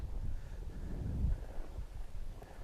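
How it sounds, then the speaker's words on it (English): Steady wind blowing outdoors across a snowy disc golf course, a low rumbling gust that rises and falls continuously with no speech over it. "And that wind picks up a bit."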